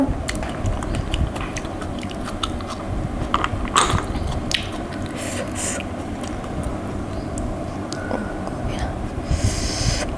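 Someone eating large blanched blood cockles dipped in sauce, close-up wet biting and chewing sounds repeating throughout, with faint murmured voices in the background.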